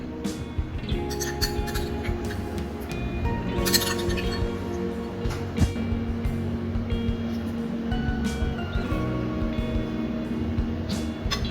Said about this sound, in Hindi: अब हम इसको अच्छे से मिक्स करते हैं।